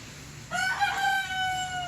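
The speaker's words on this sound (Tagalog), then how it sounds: "paligid nito is puro manok ah ayan din ha ah. so sobrang daming manok na panabong" A fighting rooster crows once, a long wavering cock-a-doodle-doo close by, starting after a brief quiet moment and trailing off.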